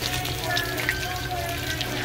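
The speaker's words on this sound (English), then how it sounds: "you fry it" Egg-dipped meat sizzles and crackles in a frying pan, a steady, quiet hiss with faint spitting pops running throughout.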